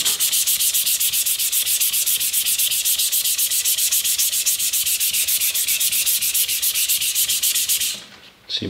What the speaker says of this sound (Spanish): el mero hecho de lijar el cuero ya saca el abrasivo de debajo